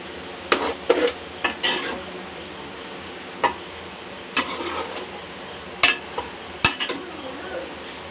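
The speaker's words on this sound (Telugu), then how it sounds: "ఉప్పు వేసుకుని మిక్స్ చేయండి." A spoon scrapes and stirs chicken curry in a pot after salt goes in, a series of irregular close clinks and scrapes over a soft simmering sizzle, without talk.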